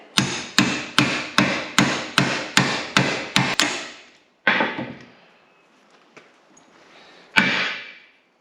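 Hammer blows on a 38 mm socket driving an old clutch bearing out of a 40 series Land Cruiser part held in a vise: nine evenly spaced sharp metallic strikes with ringing tails, then two more isolated hits after pauses, close and loud.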